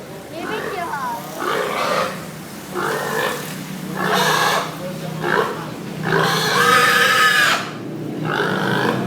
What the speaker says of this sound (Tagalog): ayan yung baboy mo yun